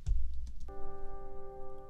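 A single low piano note struck with an accent, sustaining steadily with clear harmonic overtones after some brief soft low rumble at the start; no voice is heard.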